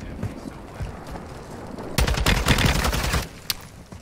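Automatic gunfire in Call of Duty Warzone rattles out in a loud, close burst lasting about a second, then a single sharp shot, over quieter background game noise.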